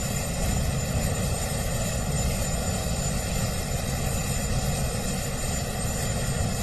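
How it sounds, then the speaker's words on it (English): Marine One helicopter rotors and engine roar as a loud, continuous wash of noise at a presidential inauguration, with wind adding to the steady drone and no talking. "I can't imagine the helicopter's rotors with the wind whipping up are going to feel very good coming up here"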